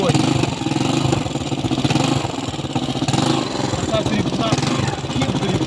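A homemade IZh enduro motorcycle runs with a steady, loud engine drone that holds nearly constant throughout, recorded close by.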